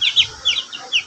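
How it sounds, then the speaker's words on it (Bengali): Young chicks kept in a cage inside a house give quick, high, bright peeps in three short bursts, close by and fairly loud, with no talking. "মুরগির বাচ্চাগুলো একটু বড় হয়েছে। তো এই খাঁচাটার ভিতরে এটাকে রাখি আমি সব সময়।"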